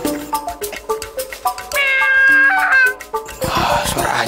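A cat meows loudly and insistently close by, a run of short repeated cries that stretch into longer, drawn-out wails toward the end.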